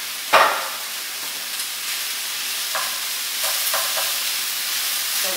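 Browned meat returned to a pan of golden onions for Turkish moussaka hisses in a steady, moderate sizzle, with a brief clatter of stirring near the start and faint scraping later.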